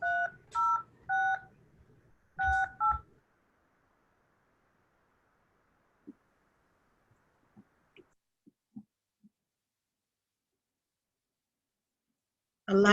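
Telephone keypad tones being dialed to enter a Zoom meeting ID: two quick bursts of loud dual-tone beeps, then silence with a few faint ticks, ending with a voice.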